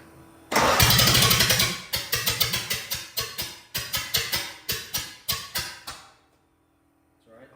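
A Ford Model A Coupe engine cranks in a rapid rhythmic churn, then settles into a loud, steady pulsing of separate firing beats close by that stops abruptly near the end, with a faint voice in the background.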